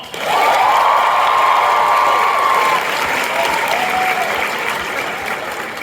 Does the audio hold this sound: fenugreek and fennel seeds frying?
no